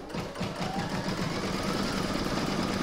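An embroidery machine stitching a quilting round on an in-the-hoop mandala placemat, a steady rapid mechanical whirring and clatter, close and continuous, with no talking.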